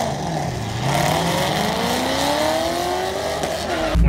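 A 2007 Ford Mustang GT, stock at about 300 horsepower, roars loudly up close as its engine revs and pulls through a sweep of rising pitch, with deep exhaust rumble throughout and a sharp burst at the end.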